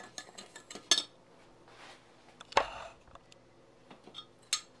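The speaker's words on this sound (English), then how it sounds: "Mix it together real quick, all those dry ingredients." Cinnamon and cornstarch are stirred together in a bowl with a utensil for apple crisp, giving scattered light clinks and scrapes against the dish with a few sharper taps, close and fairly quiet.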